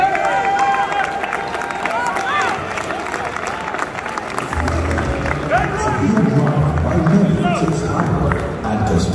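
Applause and cheering from an awards-ceremony crowd in Lagos as a performer comes up to receive an AFRIMA Legend Award, a steady wash of clapping and crowd noise that swells in the second half, with music and voices mixed in.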